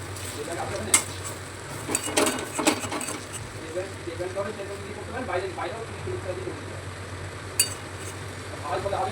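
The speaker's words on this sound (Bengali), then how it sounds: "হয়ে গেল আমার পকোড়া ভাজা।" Masoor dal pakoras made with cornflour fry in a pan with a low steady sizzle, punctuated by scraping and clicking as they are turned, while a voice talks over them.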